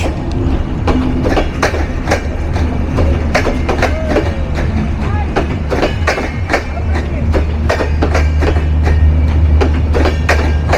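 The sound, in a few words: passing train with 30 wagons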